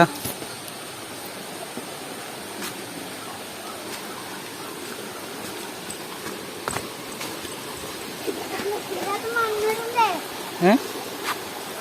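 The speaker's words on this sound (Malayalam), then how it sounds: "ഇതാണ് തോട് കേട്ടോ" A small stream flowing right behind a house, a steady soft wash of running water throughout, with faint rustles and brief voices near the end.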